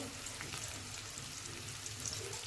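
Onion fries in a generous pool of oil, giving a soft, steady sizzle that stays faint and even throughout, with no voices.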